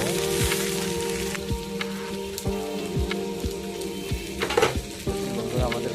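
Vegetables stirred and frying in hot oil in a pan while cooking cauliflower with hilsa fish, a steady close sizzle with repeated scraping strokes of the spatula throughout, no talking.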